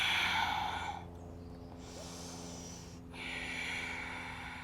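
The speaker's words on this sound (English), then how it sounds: "Breathe." Slow, deep breaths during a yoga lizard lunge: a long audible exhale, a quieter pause, then another breath, close and soft in a quiet room.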